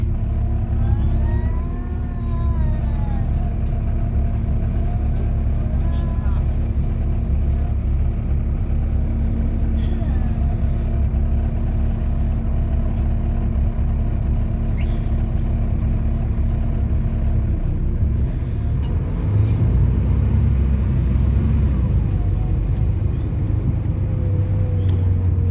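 A Wright Eclipse Gemini open-top sightseeing bus driving through Belfast, its engine a loud, steady, close drone with gentle rises in revs and a brief surge near the end, heard alone without talk.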